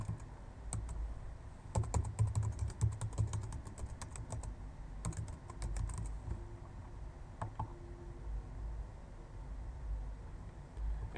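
Keystrokes on a computer keyboard as a domain name is entered while setting up a hosting account, coming in quick bursts of close clicks with short pauses between them, alone with no talk.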